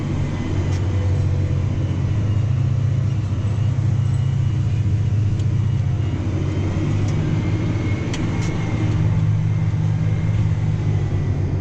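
John Deere 8235R tractor pulling a vertical tillage tool across a field at about 1850 RPM, a steady, loud low engine drone heard from the cab with only slight variations.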